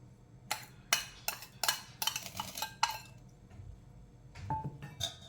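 A spoon stirs idli batter and salt in a bowl, giving quiet, irregular metal clinks and scrapes against the vessel, a cluster of taps followed by a short pause and a few more, with no speech.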